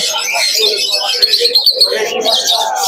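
Many pigeons chirp and coo together in a busy, crowded pigeon market in Krishnanagar, loud and close, with voices mixed in.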